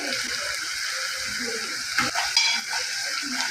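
Crushed garlic drops into onion and tomato frying in a pan for egg bhurji, giving a steady close sizzle with a brief burst of louder crackle and stirring, while faint talk runs underneath.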